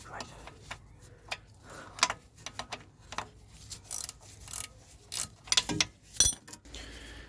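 A ratchet wrench undoing the bottom bolt while dismantling a car's starter motor, a series of close metallic ticks and clicks in uneven bursts, with someone talking at times.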